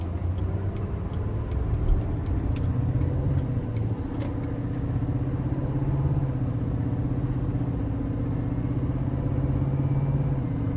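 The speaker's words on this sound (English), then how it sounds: "And acceleration is really good, especially for, you know, a truck of this magnitude." A 2020 GMC Sierra 3500HD Denali dually with a 6.6 diesel accelerates, its deep engine drone building steadily and heard from inside the cab with no talking.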